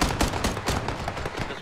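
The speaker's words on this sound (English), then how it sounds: "You hear the gunshots in the background." Dense, continuous gunfire crackles and thumps without pause in the PUBG video game during a showmatch, with rapid overlapping shots filling the whole stretch.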